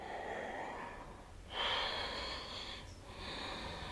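Deep yoga breathing during a pranayama detox twist session: slow, close, airy inhales and exhales flowing in long rhythmic cycles, soft and unhurried.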